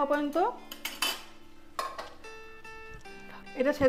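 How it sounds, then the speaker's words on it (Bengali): A metal lid clanks onto a cooking pot of cauliflower and egg curry, giving several bright, ringing metallic knocks close by, with brief speech at the start and end. "হওয়া পর্যন্ত আমি ঢাকা দিয়ে রেখে দিচ্ছি।"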